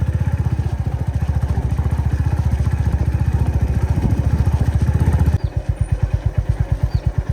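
A motorcycle engine thumps in a rapid steady rhythm close by on a road in Barot Valley, Himachal, then drops to a slower, lighter idle near the end.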